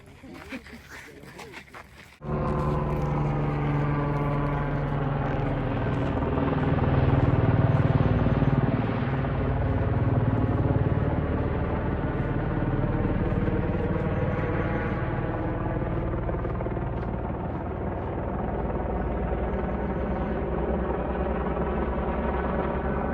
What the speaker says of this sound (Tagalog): Yun ang dahilan kung bakit may helicopter na umiikot doon.